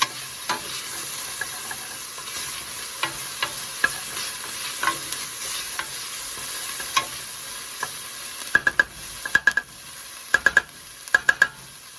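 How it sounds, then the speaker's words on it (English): Onions cooking in a pot of beef stew, a low steady sizzle with occasional sharp scrapes and clinks of a utensil stirring, the clattering growing busier near the end. "Allow the moisture from the onions to start to break the fond and stuff like that down."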